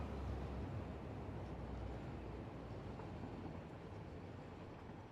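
A train rolling along in the Satisfactory video game, a low continuous rumble and rattle that holds steady and fades slightly toward the end, moderately quiet with no talk over it.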